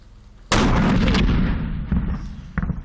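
A single loud historical cannon blast at an artillery demonstration at Monostor Fortress, Komárom, booms out suddenly, its rumble rolling and decaying over a couple of seconds, with a smaller thump near the end.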